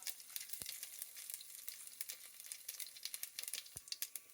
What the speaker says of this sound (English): So in go the mustard seeds, and then go the jeera.